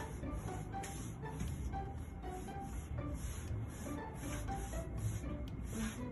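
A paint brush rubs corten oxide texture onto a sprayed wall in random strokes, giving a continuous soft scratchy brushing close by, steady throughout with no talk.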